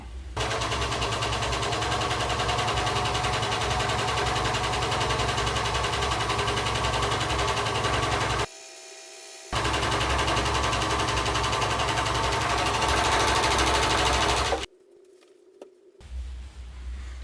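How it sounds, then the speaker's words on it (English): A serger overlocking the edge of a seam on men's slacks runs in a loud, rapid mechanical chatter for several seconds, stops briefly, runs again, then cuts off to near silence with a faint rustle at the end. "I'll just serge the edge to keep it from fraying"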